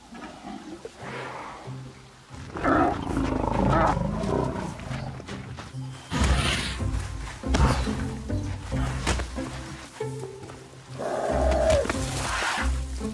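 Young male elephants play-fighting on the Kenyan savanna, with deep rumbling, bellowing and trumpet-like calls in irregular bursts, close and fairly loud amid low thuds and scuffling.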